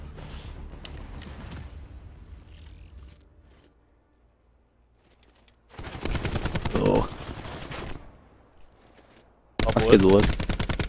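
Bursts of rapid automatic gunfire from Black Ops 4 multiplayer search-and-destroy on the Firing Range map, two loud dense volleys separated by a quiet stretch, with players talking briefly over the early part.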